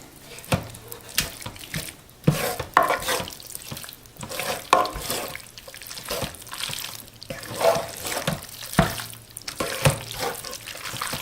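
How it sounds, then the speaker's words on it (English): Fettuccine being stirred into chicken alfredo in a Ninja cooker, giving repeated wet, squelching scrapes in an irregular rhythm and carrying on throughout at moderate loudness. "And then we mix it all together."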